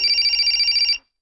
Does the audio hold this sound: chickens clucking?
no